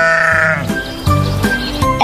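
A sheep bleats loudly and close, a wavering cry followed by a couple of shorter bleats.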